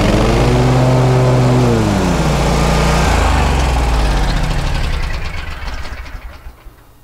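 A lawn mower engine labors at half throttle with its blades engaged, a loud, uneven drone whose pitch sags and wavers as it bogs down, then fades and sputters out near the end.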